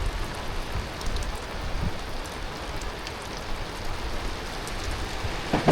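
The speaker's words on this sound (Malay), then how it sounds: "Hujan lalu." Steady rain falling by a river in Sungai Layang, Johor, during a fishing trip on a raft, a dense even hiss with no talk.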